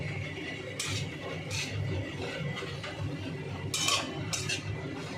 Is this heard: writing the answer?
no